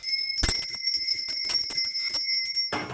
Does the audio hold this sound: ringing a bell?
yes